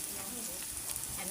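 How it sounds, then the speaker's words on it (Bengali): Pieces of rui fish frying in a pan give a dense, steady sizzle, close and continuous for a brief moment, with no voices over it. "আমি মাছগুলো ভাজে নিলাম।"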